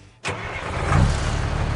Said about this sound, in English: I am starting the truck!